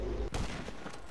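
A single sharp gunshot cracks out in GTA Online, a close, loud bang that rings into a short decaying tail.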